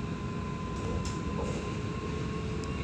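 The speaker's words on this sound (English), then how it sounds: "I think the unit number of the tram that I'm riding in currently is unit 36." Inside a Sydney CBD and South East Light Rail tram, riding in the rear car of unit 36: a constant low rumble with a steady electrical hum and a few faint rattles, no voices.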